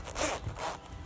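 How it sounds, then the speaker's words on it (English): A full-length zipper on an arborist tree-climbing jacket being drawn close to the mic, a continuous rasping pull of about a second ending in a sharp click. "So it has a full zipper here."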